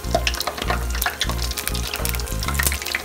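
Eggplant fritters fry in hot oil with a continuous close sizzle and bubbling crackle, broken by a few low thumps as the pieces are turned, without speech.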